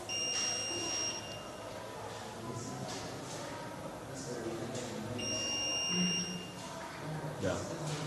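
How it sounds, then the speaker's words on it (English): An electronic buzzer on a homemade cattle-farm water tank sounds a low water level warning: two steady high tones, one near the start and one about five seconds later, over background noise and a speaking voice. "the buzzer is ringing to show us that water level warning"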